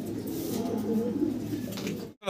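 A large single female Mundian pigeon coos steadily and close by in a low, continuous murmur that runs for about two seconds before cutting off.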